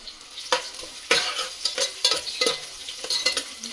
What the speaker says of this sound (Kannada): ಈಗ ಎಣ್ಣೆ ತುಪ್ಪ ಎರಡು ಕಾದಿದೆ ಅನ್ಕೊಂತೀನಿ